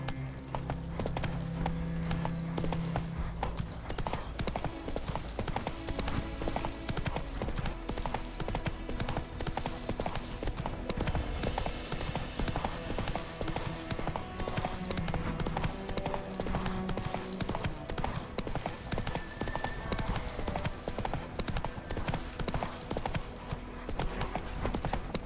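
A horse gallops in The Witcher 3, its hooves clip-clopping in a fast, unbroken rhythm for the whole stretch over a continuous game soundtrack, with a faint whinny mixed in.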